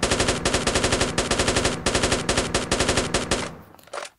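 Rapid automatic gunfire in the Cops N Robbers video game, loud close bursts of machine-gun shots in quick rhythmic strings, ending with a brief pause and a final short burst.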